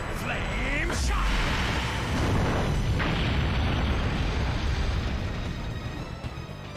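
A Flame Shot fire attack from The Legend of Dragoon on PlayStation erupts as a loud, sustained explosive roar of dense rumbling noise with a sharp burst near the start, lasting several seconds before slowly tapering off.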